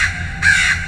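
A voice imitates a crow cawing, giving two loud, close, nasal caws in quick succession with no other sound.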